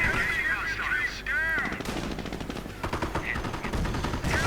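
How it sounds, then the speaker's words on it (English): Loud bursts of .50 caliber machine gun fire in a World War II tank battle video game, rapid repeated cracks layered with explosions and other battle noise, close and dense. "Volkswagen is taking heavy losses to, in fact, the machine guns"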